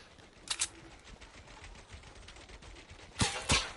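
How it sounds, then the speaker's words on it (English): Video game gunfire rings out in a few short, distant bursts, two near the start and two louder volleys at the end, over a low background hum. "Who's shooting at us?"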